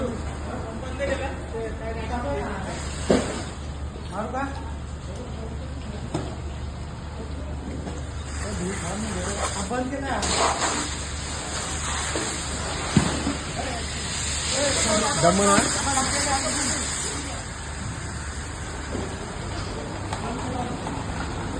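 A steady loud hiss of water spraying from a fire hose onto a burning plastics shop runs throughout, with crowd voices and shouting mixed in and occasional bursts of louder rushing.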